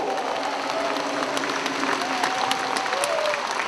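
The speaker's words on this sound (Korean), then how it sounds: "우리 조승현 단장을 위해서 박수 한번 해주십시오" A crowd claps at the opening ceremony of a janggu drumming competition in Gwangmyeong, bright dense applause from many hands filling the hall, with a faint murmur of voices underneath.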